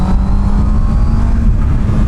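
A Honda CB650R motorcycle's four-cylinder engine revs hard under acceleration, a loud steady buzzing drone heard close up without any speech.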